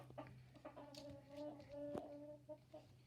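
A chicken clucks close by in a run of short throaty calls, with a faint background hum underneath.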